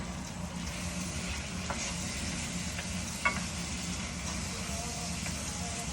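Sausage sizzles steadily in a frying pan while being stirred, with a constant hiss, low background rumble and a few scraping clicks of the utensil against the pan.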